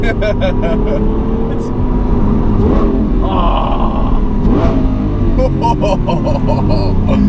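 A Lamborghini Aventador SV engine drones loudly and continuously from inside the cabin as the car accelerates, with someone talking over the steady roar.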